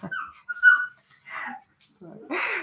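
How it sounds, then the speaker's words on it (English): A dog gives a few short barks and whimpering yips, close and sharp, separated by brief silent gaps during a quiet indoor morning yoga session. "that wasn't too bad, her bark that time"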